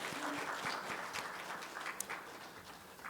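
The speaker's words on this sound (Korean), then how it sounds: "박수로 환영합니다." Congregation applauding during a Korean church Sunday service: a faint, distant wash of scattered clapping that holds steady, then thins out.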